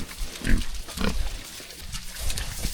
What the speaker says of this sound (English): Look at all these loose pigs, 3 boars, I don't know how many.